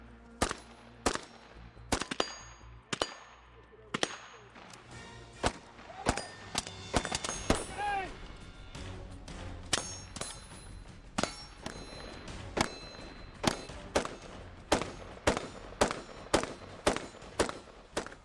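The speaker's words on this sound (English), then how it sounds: "So great shooting." Sharp carbine gunshots at a tactical shooting practice, fired in irregular bursts and single shots across the whole stretch, loud and close with echoing tails and no talk over them.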